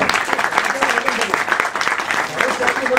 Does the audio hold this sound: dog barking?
no